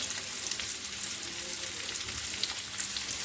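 Chopped onions, curry leaves and green chillies sauté in a hot pan with oil, giving a steady, soft crackling sizzle with scattered small pops, close and fairly quiet.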